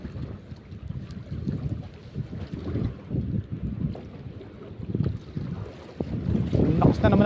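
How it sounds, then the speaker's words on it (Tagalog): Strong, gusty wind at sea buffets the microphone on a fishing outing by the water, rumbling in uneven surges that swell and fade without any talk. "Lakas na naman ang hangin"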